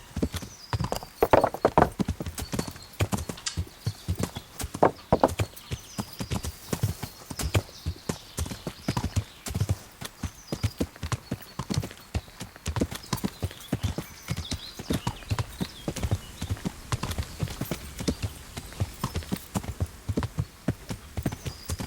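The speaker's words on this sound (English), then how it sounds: "voy con el caballo corriendo hasta la derecha" Hooves of a horse galloping in the video game Kingdom Come clatter in a rapid, steady clip-clop rhythm that runs throughout, moderately loud and close.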